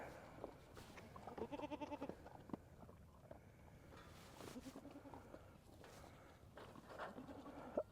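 Goats bleat repeatedly on a cold homestead as they wait to be fed at feeding time, several calls at moderate distance with irregular rhythm over faint farmyard background noise and occasional footsteps.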